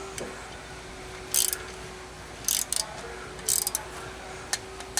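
Impact wrench bursts tightening lug nuts in a star pattern on a Ram 3500 truck wheel: several short, sharp ratcheting rattles, a few seconds apart, close by over a steady background hum.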